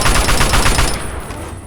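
Rapid automatic gunfire in Fallout 3 sounds as a loud, close stream of quick shots that rattles for about a second, then trails off into echoing noise.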